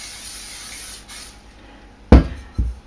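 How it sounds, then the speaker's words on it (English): A short hiss of oil spray into a bowl, then a sharp close knock and a smaller second clunk as something is set down, all in a quiet kitchen. "and just spray the bowl"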